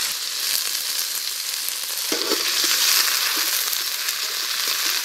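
Cumin and onion frying in hot oil for a taro root and small fish curry, a steady close sizzle with a few soft stirring scrapes and crackles and no talking.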